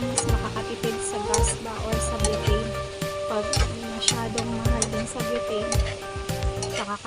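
Food sizzles and fries in a pan on a butane stove, a steady crackling hiss with stirring and clinking utensils throughout, while music with sustained tones plays and someone talks.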